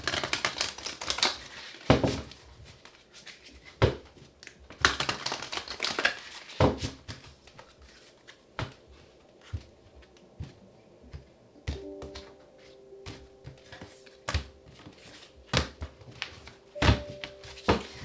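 Cards are shuffled in bursts of crisp riffling and sharp taps, close and fairly quiet, with gaps of irregular clicking between.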